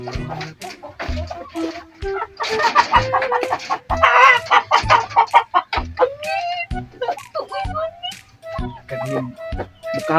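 Chickens cluck nearby in repeated bursts of clucks and squawks, loud and close, while people talk over and between them.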